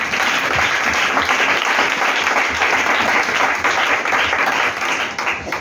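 A church congregation at a French-language service applauds, a dense, loud and continuous clapping that fills the whole space without letting up.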